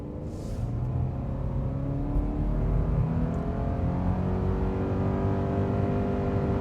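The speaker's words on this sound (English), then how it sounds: "Let's try flooring it this time, but we won't brake torque it." A vehicle engine revs hard and holds at high pitch under full throttle, with steady rising engine tones and no talking.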